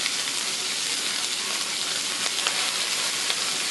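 Food frying in a hot skillet, a steady close hiss and crackle of sizzling fat that holds even and unbroken, with a few small pops.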